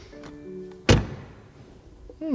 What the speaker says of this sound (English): First of all, door closing sound.